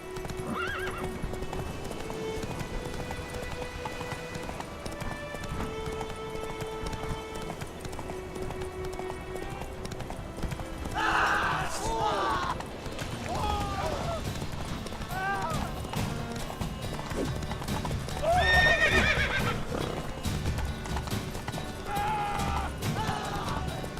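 Roach, a horse in the video game Witcher 3, gallops in a continuous rhythmic clip-clop over music, letting out loud neighs partway through while a voice speaks intermittently.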